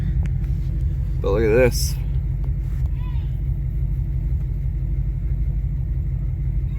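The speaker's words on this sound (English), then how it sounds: "Truck is idling." A deep, steady V8 engine rumble from a Ford Ranger pickup idling throughout, close by, while someone speaks briefly over it and a short warbling electronic tone sounds.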